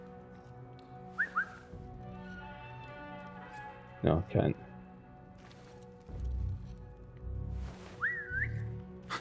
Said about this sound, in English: I think I can attract that guy by whistling.